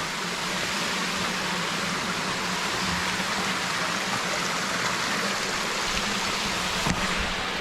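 A waterfall-fed stream flows in a steady, unbroken broadband rush of water. It is fairly loud and even throughout, with no voices.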